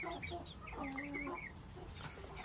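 Backyard chickens and roosters just let out into the yard give soft, repeated clucks and low murmurs at moderate distance, overlapping in a steady flock chatter with no one talking.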